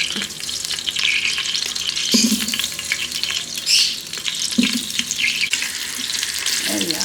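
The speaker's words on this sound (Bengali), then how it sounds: "আলু ভাজা হচ্ছে।" Potatoes fry in a small amount of hot oil in a pan, giving a continuous hissing sizzle close by, broken by intermittent scraping and stirring clatter.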